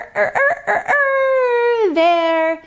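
A child's or adult's voice imitating a rooster's cock-a-doodle-doo during a farm-animal song, with sung words first and then a long, loud, wavering crow that dips and rises near the end.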